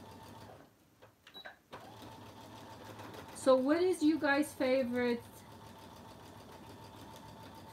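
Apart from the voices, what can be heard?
sewing machine stitching on slow speed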